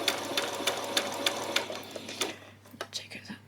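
A domestic sewing machine running a zigzag stitch on fabric for a child's peasant top, giving a steady rapid mechanical whirr with regular needle ticks, near and fairly quiet, slowing toward the end.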